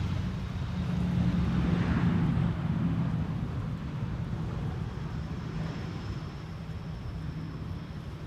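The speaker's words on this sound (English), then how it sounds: "Lufthansa A319, flight 2303, arriving from Munich" A Lufthansa Airbus A319 arriving from Munich lands at Amsterdam Schiphol with a sustained jet roar, strongest early on and then holding steady, with some wind buffeting on the microphone and no talking.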